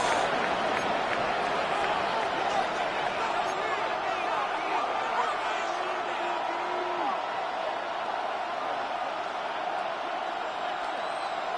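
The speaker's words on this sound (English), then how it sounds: "This crowd into it now as we get to third down." Stadium crowd in a Madden NFL football game roaring and cheering at third down, a broad steady wash of noise under continuous play-by-play commentary.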